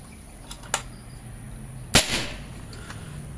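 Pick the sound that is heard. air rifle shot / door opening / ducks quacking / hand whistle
air rifle shot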